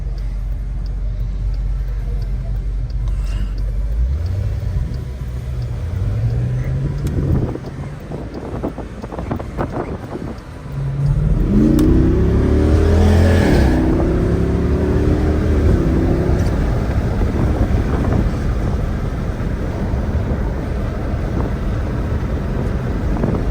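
A car drives along a road with steady wind and tire rumble, a second vehicle-like engine pitch rising and falling partway through, loud and continuous with no talking.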